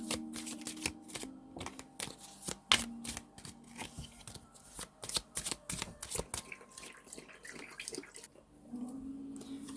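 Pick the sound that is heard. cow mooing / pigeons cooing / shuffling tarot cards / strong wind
shuffling tarot cards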